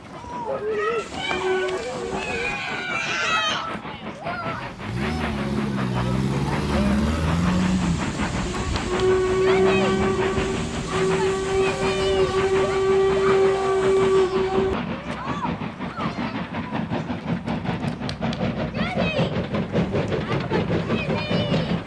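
A steam train rumbles past along a track behind houses with rhythmic clattering and a long, steady whistle-like tone in the middle, while a voice talks over the noise.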